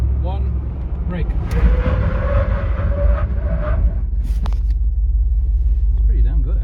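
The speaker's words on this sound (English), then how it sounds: "At 80, we're going to slam the brakes in 3, 2," A Jeep Wrangler 392 V8 brakes hard from 80, a loud low rumble of road and engine noise with a rising tonal squeal from the tyres or brakes as it slows, while voices talk over it.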